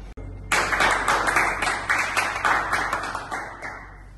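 People clap for a boy named Ivan after he flies a paper plane, a brief burst of many hands applauding at a steady rapid rhythm that starts suddenly and slowly thins, with no talk over it.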